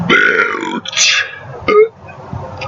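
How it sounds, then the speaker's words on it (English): A loud, drawn-out burp rumbles close up, followed by a short breathy sound and a second brief belch, then quieter throat noises. "belch."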